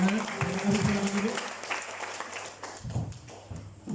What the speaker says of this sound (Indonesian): Beri tepuk tangan yang diberkati Tuhan.